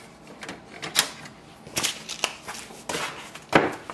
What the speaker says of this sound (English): going to load the paper in the rear paper tray